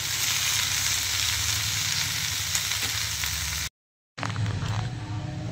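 Red amaranth greens and chili sizzle steadily in a hot pan of browned garlic, a loud continuous frying hiss broken by a brief silent gap before the sizzling resumes while being stirred.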